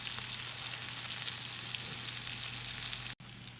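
Pork schnitzel cutlets frying in a little oil in a non-stick pan give a dense, even crackling sizzle over a low hum, close and unbroken until a brief cut near the end.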